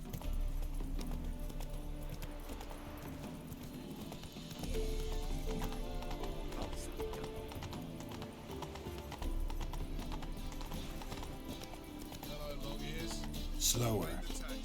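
Horse hooves clip-clopping steadily in The Witcher 3 video game, a continuous galloping rhythm with occasional whinnies over game music and ambience, with someone speaking briefly.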